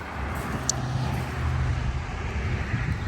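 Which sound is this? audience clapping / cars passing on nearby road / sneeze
cars passing on nearby road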